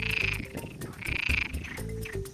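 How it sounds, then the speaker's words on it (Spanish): Common green frogs croak in a dense chorus on a Salamanca dehesa, overlapping rattling calls pulsing close and fairly loud with no voices. "Las ranas verdes comunes continúan con sus coros de día y de noche."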